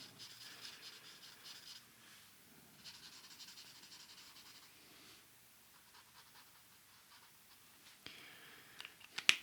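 A thicker pen nib scratches across paper in a colouring session, faint soft strokes coming in short bursts with pauses between them, and a few light taps near the end.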